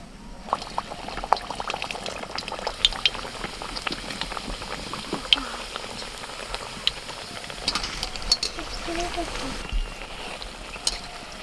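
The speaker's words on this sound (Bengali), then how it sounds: "তেল গরম হয়ে গেছে এবার একটা একটা করে ভেজে নেবে" Stuffed carrot puris fry one at a time in hot oil with a bubbling, boiling sizzle. Small splashes and clinks are scattered through, and faint voices sit in the background.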